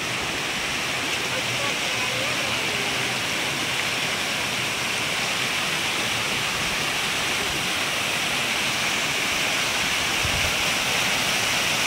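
The Katulkasa waterfall near Keshkal, Kondagaon district, Chhattisgarh roars in a steady, loud rush of fast-flowing water that fills the whole clip, with voices faintly under the noise.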